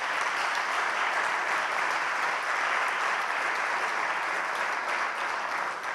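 A seated audience at a Chilean mining panel forum applauds a 35th anniversary with steady, dense clapping that stays loud and even from start to finish.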